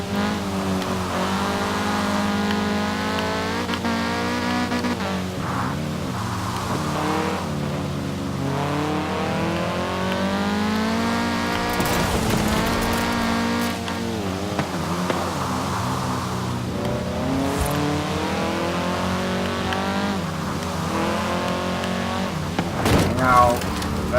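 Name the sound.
2015 Audi TTS Coupe engine revving in video game Forza Horizon 4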